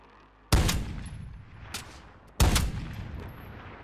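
Unsuppressed M82 sniper rifle shots in Call of Duty Warzone: two loud, sharp blasts about two seconds apart, each with a long rolling tail, and a fainter crack between them.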